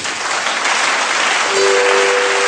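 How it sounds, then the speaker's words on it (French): A church congregation applauding, loud dense clapping from many people that fills the room and holds steady throughout. "acclame le Seigneur Jésus-Christ"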